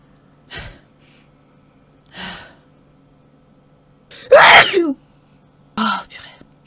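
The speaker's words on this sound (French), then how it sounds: "Attendez, je dois éternuer." A young woman sneezes loudly and sharply after a few quick preparatory inhales, followed by a shorter breathy exhale, all close up in a quiet room.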